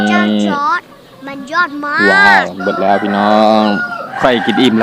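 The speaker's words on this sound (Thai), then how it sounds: "ไก่ขันละ" A rooster crows outdoors in the background while a person speaks Thai throughout, the crowing partly masked by the talk.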